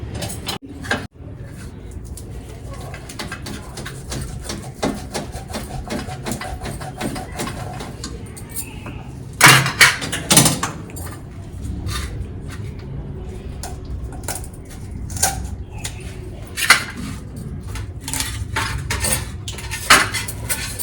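A knife cuts a tuna fish into pieces with repeated sharp taps and clacks against a board, uneven in rhythm and close by, over a soft squishy background.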